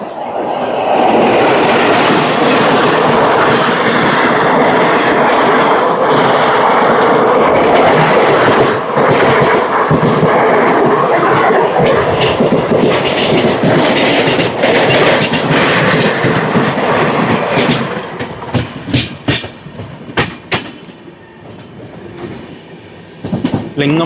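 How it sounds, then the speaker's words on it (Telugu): The Tirupati–Secunderabad Superfast Express roars loudly past near the Lingampally coach depot, a sustained rumble that ends in rhythmic wheel clatter over rail joints as the last coaches go by. "ట్రైన్ వస్తుంది, చూద్దాం ఈ ట్రైన్ అనేది."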